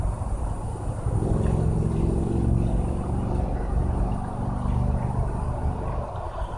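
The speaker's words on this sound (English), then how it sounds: "In this game, the players are turned into slot cars and race around a small circular racetrack." In the Mario Party Slot Car Derby minigame, tiny racing slot cars whine and buzz continuously around a small circular track, with a steady mid-level engine drone and no speech.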